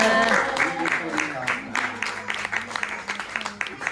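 Onlookers clap for a street magician at Ganpatipule on a Konkan picnic, a short burst of applause thinning into scattered claps while voices carry on beneath.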